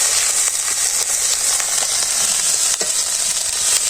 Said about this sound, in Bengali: মরিচ বাটা, হলুদের গুঁড়ো ভালো করে কষে নিই।